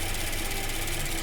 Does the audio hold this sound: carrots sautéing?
no